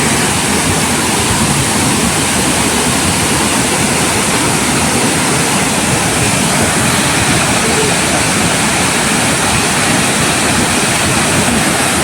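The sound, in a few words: Haritheerthakkara waterfall, water falling with force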